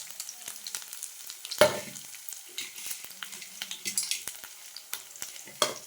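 Dried red chilies, curry leaves, garlic, and urad and chana dal frying in oil, a soft continuous sizzle broken by crackling pops and scraping stir sounds, with one louder clatter.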